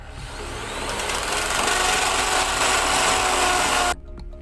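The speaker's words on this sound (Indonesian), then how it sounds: "Untuk membuat lubangnya, kita bor dulu agar keramiknya tidak rusak." A power drill bores a hole through ceramic wall tile during a gas water heater installation, a steady grinding whine that runs for about four seconds and then stops abruptly.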